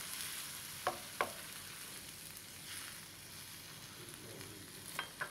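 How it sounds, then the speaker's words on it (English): Beef cooking in a pan for tsiren tukunya, a soft steady sizzle and simmer, with a few sharp clicks and clatters scattered through it and no voices. "So I'm going to cover the pan and let the beef cook properly."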